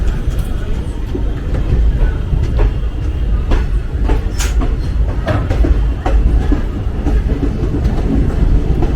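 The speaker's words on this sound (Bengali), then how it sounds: "আমরা ভেতরে বসে গেছি, ট্রেন ছেড়ে দিয়েছে" Interior of the Sealdah-Rampurhat express (Maa Tara Express) as it pulls out of Naihati station, with a steady low rumble, rhythmic wheel clacks and occasional squeals throughout, no voices.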